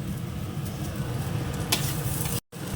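Eggplant frying in a pan gives off a steady, close sizzle that holds evenly throughout, with a brief cut near the end.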